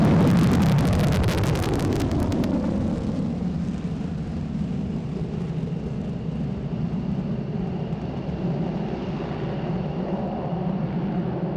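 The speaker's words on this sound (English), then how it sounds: "The Rockwell B1B Lancer." A Rockwell B-1B Lancer bomber at an airshow gives a loud, broad jet roar that opens with a harsh crackling burst and then settles into a sustained, rumbling wash of engine noise that slowly fades.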